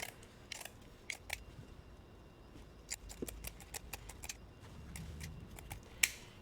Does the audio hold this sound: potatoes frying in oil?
no